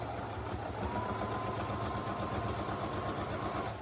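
A sewing machine stitching the side seam of a small fabric face mask for a child, a fast, even mechanical whir running steadily at close range without pause.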